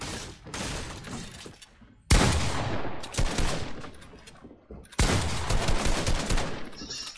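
Shotgun blasts in a Fortnite solo boxfight, three sharp heavy shots each followed by a long crashing decay, with crackling building and gunfire noise in between, loud and close.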